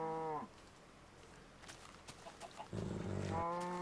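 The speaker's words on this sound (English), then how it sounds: "Come here, cow." Two Minecraft cows moo in-game, one low harmonic lowing call at the start and another near the end, separated by quiet ambient game sound.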